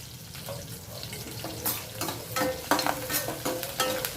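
Cashews dropped into hot tempering oil for temple-offering katte pongali, a steady sizzle and fry with stirring scrapes and clinks of a spoon against the pan, close and fairly loud with no talking.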